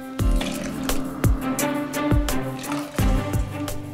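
About one and a half glasses of water poured into a pressure cooker over tomato puree for tomato rasam: close, splashy glugs and drips arriving in uneven bursts.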